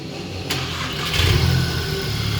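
VW TSI car engine running steadily after its cylinder misfire was cured, a continuous close mechanical hum with a brief rise in level midway, no voices.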